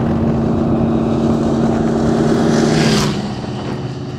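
Dual-V8 1927 Ford hotrod engine runs as a loud, steady rumble close by, rising briefly near the end before dropping back to a lower idle.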